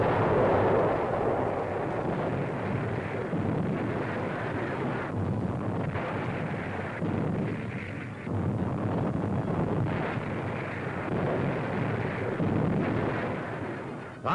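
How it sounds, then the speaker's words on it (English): Artillery fire pounding enemy gun emplacements on the hills around Cassino in WWII, heard as a dense, continuous rumble of distant booms and blasts. "Enemy gun emplacements on the hills around Casino are hammered without let-up"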